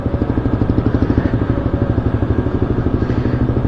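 Motorcycle running with a silencer fitted in its exhaust pipe, a close, steady, loud idle with an even rapid pulsing thump throughout.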